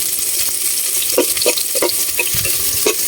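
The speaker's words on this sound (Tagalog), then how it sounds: "at yung bawang ayan, igigisa lang po natin yan" Garlic sautéing in a pan, a steady broadband sizzle with a spatula scraping and stirring in repeated strokes roughly every third of a second, loud and close with no talking.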